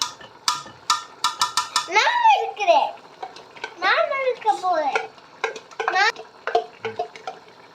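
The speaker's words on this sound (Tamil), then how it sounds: "பார்த்து பார்த்து கிளறி விடுங்க" Chicken biryani is stirred in a pot, with a series of close scraping and clinking strokes in uneven bursts, partly overlapped by a voice.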